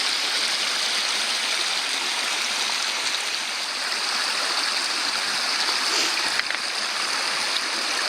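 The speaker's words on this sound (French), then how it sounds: "Et voilà le torrent, on va sortir les bouteilles et on remplit." A mountain torrent rushes steadily nearby, a dense unbroken hiss of fast-flowing water with no voices over it.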